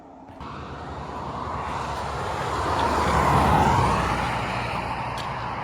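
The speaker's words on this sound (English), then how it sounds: "Car is going probably 85 miles an hour, maybe 65 to 80" Steady roar of highway traffic rushing past at around 65 to 85 mph, swelling as a vehicle nears and then fading slightly, with continuous road noise throughout and no talking.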